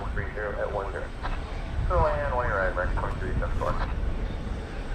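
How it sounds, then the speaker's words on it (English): A Frontier airliner takes off at Dallas/Fort Worth airport at night, a broad, steady engine roar in the background. Someone talks over it and tower radio chatter is also heard. "There's a Frontier taking off"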